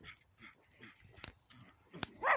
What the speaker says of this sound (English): pretty dog over there.